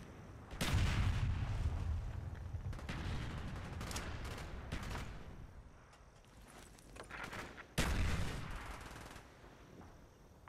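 Heavy mortar impacts in Call of Duty Black Ops land as booming blasts with rumbling tails, one strong hit early and another later, mixed with scattered gunfire in the distance.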